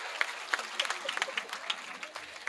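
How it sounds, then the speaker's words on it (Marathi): Audience at a comedic kirtan, a live devotional performance, clapping in a brief patter of scattered claps, moderately close, with crowd noise and a voice faintly underneath. "वाजवा टाळ्या"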